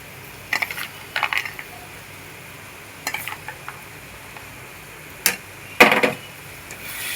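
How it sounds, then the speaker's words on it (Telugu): Cashews and raisins dropped into a pan of carrot halwa, a few sharp, scattered clinks and taps spread out over quiet background, with no one speaking. "జీడిపప్పు కిస్మిస్ 2 వేస్తున్నాం."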